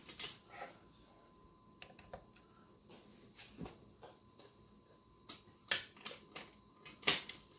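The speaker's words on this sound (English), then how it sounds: "takes a 1/8 inch Allen key to wind the winder" Planet Eclipse CF20 paintball magazine winder being turned with a 1/8 inch Allen key, giving faint, irregular mechanical clicks and ticks, a few sharper snaps near the end, close and quiet with no talking.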